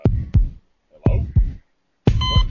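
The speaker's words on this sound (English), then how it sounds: "It sounds like somebody's heartbeat." A heartbeat sounds as close, heavy low thumps in double-beat pairs, two pairs a second apart, then a brighter burst at the end.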